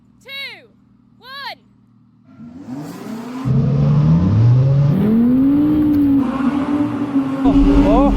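After two short beeps, an Audi R8 accelerates up a snowy hill, its engine note climbing through gear changes and staying loud and close, with a voice talking over it.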